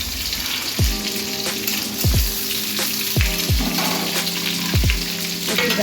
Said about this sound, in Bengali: পেঁয়াজ আমি বাদামি বাদামি কালার ভেজে নেব।